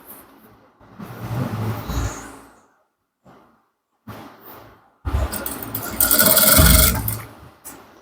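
A sewing machine stitches Ankara fabric pants in bursts, with a run of stitching followed by pauses and then a louder, denser run near the end.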